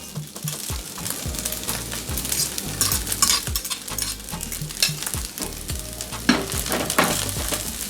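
Shrimp and egg sizzle in a hot pan while a utensil repeatedly stirs and scrapes through them in an uneven rhythm. The frying sounds close and continuous, with no voices.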